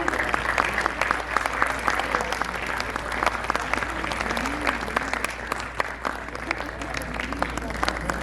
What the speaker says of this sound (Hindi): जोरदार तालियों से स्वागत करेंगे संगम बहुगुणा जी और विकास श्रीवास्तव का